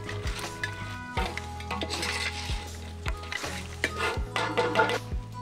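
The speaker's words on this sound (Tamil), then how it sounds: "தேங்காய் அரைச்சி வச்சு தேங்காய் பால் ஊற்றுறோம்." Coconut milk poured into a goat head curry frying in a pan, with steady sizzling and bubbling under repeated stirring and scraping of a spoon against the metal pot.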